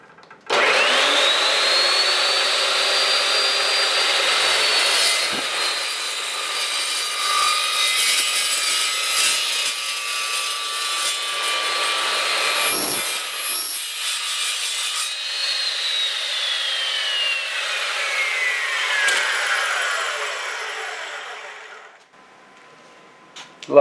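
An Evolution S355MSC metal-cutting miter saw slices through square steel tubing, a loud sustained grinding screech with shifting pitch for about twenty seconds, then the blade spins down to quiet.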